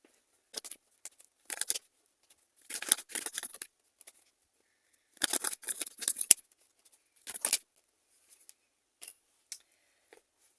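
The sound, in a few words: drawing and shuffling tarot cards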